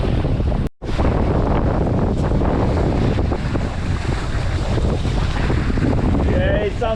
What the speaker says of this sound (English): Yeah, it's some sailing.